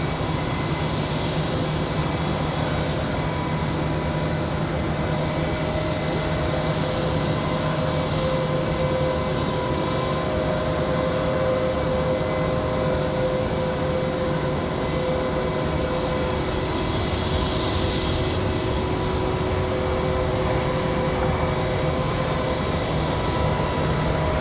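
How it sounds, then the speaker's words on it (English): A Delta Boeing 737 readies for departure, its jet engines producing a constant low roar with a faint steady whine layered on top, sustained evenly and heard alone. "Got a Delta 737 getting ready for departure."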